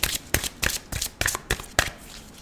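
Tarot cards being shuffled by hand in a run of quick papery riffles and slaps, about six short bursts at an uneven pace, close and fairly quiet, with no talking.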